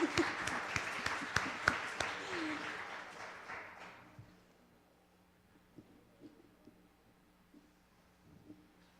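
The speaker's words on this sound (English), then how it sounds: "let's give them a round of applause" An audience applauds a presenting team from Corning Community College at a business pitch event, a loud burst of many hands that fades out after about four seconds into a quiet room with a few stray noises.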